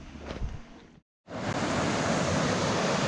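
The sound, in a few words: river flowing through a gorge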